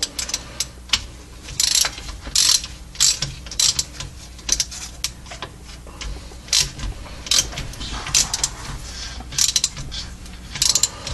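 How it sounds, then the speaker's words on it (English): Ratchet wrench tightening a bolt on a C6 Corvette manual transmission, a series of close clicking bursts in uneven bouts with pauses and clanks between them. "So now we're going to grab a wrench."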